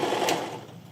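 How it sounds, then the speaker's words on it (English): A sewing machine stitching the seam of a green section of a lined beanie, a brief soft mechanical whir close by and fairly quiet, fading out within a second, with no talking. "I'm zooming in again to show you the sewing of the green section."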